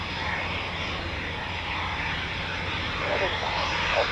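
Eurofighter Typhoon FGR4 jets returning to an RAF station, producing a steady, loud roar of engine noise that stays broad and continuous throughout, with speech over it.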